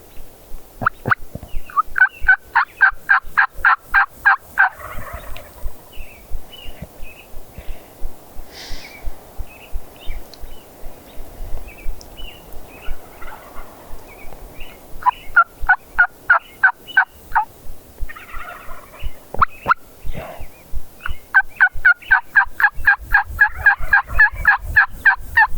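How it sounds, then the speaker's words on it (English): Wild turkeys gobble from the roost in bursts of rapid rattling calls, repeated several times over the span, distant to mid-range and loud in the open air, with scattered softer calls and rustle between bouts. "Yeah, I hear Jake gobbles and stuff."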